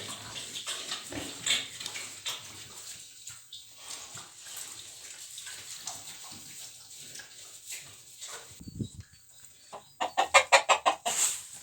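Hens cluck and chatter inside a farm shed bedded with straw, soft scattered calls close by that swell into a loud, rapid cackling flurry near the end.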